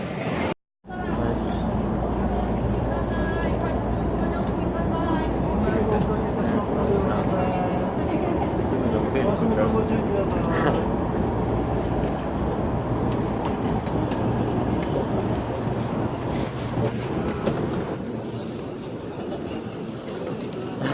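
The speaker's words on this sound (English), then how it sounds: "that's our train." A train heard from nearby, a continuous loud broadband rumble and rolling roar that lasts throughout, steady and close, with a person speaking over it.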